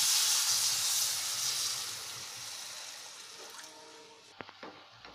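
About a glass of water poured into a hot pan of cooking chana dal upma bursts into loud hissing steam, fading gradually, then a few sharp utensil clanks close by.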